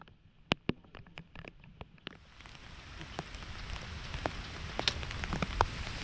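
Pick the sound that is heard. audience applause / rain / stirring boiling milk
rain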